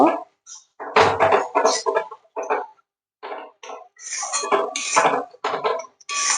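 A spatula stirs a flat bean mash in a pan, making irregular bursts of scraping, clinking and tapping against the metal up close, with short pauses between strokes.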